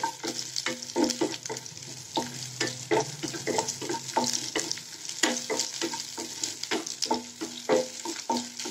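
Small onions sauté in a pan with a soft sizzle beneath rapid, rhythmic spatula taps and scrapes against the metal, close and continuous.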